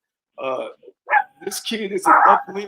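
A pet dog named Mocha lets out several close, sharp barks and yips in quick succession while someone talks over them.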